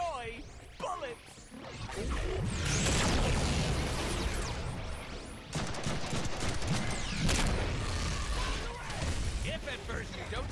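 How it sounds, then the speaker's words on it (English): Rapid bursts of gunfire and bullet impacts from the Deadpool video game fill the scene, dense and loud with crashes and whooshes, while a voice talks over parts of it. "Oh joy! Bullets!"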